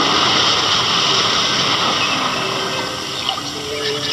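Steady rushing water of a riverbank, the Citandu river, used as a radio drama sound effect; a continuous broadband flow with faint splashes, moderately loud and unbroken throughout.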